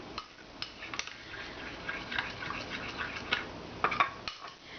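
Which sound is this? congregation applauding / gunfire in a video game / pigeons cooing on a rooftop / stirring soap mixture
stirring soap mixture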